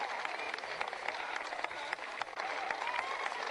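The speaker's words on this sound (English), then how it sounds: "A lot of cheering going on." Dense, steady applause from a crowd, mixed with some cheering, fills the whole stretch without a break and stays loud and close throughout.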